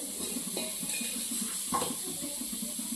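Sliced onions fry in hot oil for a tomato palya, giving a continuous low sizzle with faint utensil taps underneath.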